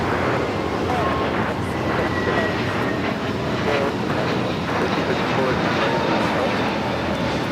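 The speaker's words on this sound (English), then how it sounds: "Flight heading to Boston, JetBlue Airways, flight 888, A321 Neo." A JetBlue Airways Airbus A321neo jet airliner at LAX, its engines giving a steady, loud, broadband roar that stays constant throughout.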